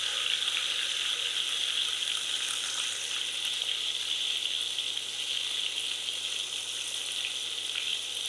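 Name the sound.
cumin paste frying in a pan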